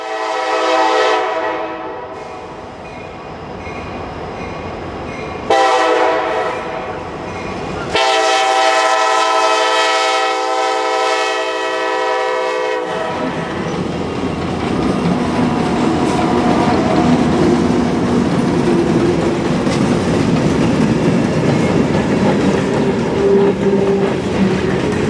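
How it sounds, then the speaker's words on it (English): A freight train led by a flared SD70MAC locomotive passes close by, its horn sounding in long loud blasts with clear harmonic tones, then steady rumble and clattering wheels on rail as the cars roll past. "you can certainly hear that a flared SD-70 Mac is leading the train."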